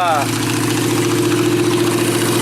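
A motorcycle engine with a possible charging problem running steadily at a close, loud, even idle with a quick rev dying off at the start, while someone talks over it.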